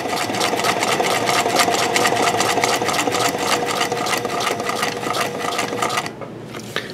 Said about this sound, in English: I'm gonna go around this whole piece.